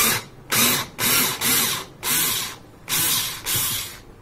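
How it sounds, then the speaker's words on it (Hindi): A cordless hand drill driver runs in reverse to back a screw out, giving six or seven loud, close whirring bursts of about half a second each, separated by short gaps, with no voices. "तो अब ये ड्रिल क्या काम करेगा, ये स्क्रू को खोलेगा।"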